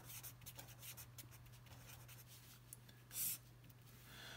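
Pen or marker writing Big O notation by hand, a faint scratchy rub of strokes in irregular bursts over a low steady hum, with one louder scrape near the end.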